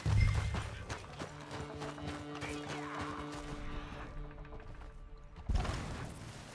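Horses galloping in Red Dead Redemption 2, a rapid clatter of hooves with thumps and a whinny, loud at first, thinning out midway, then a heavy thud near the end.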